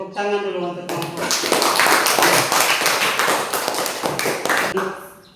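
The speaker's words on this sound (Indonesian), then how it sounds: "Tepuk tangan dulu untuk kelompok" A classroom of students clapping hands together for a group, a brisk run of many rapid claps that swells and then tapers off, with a voice talking briefly at the start.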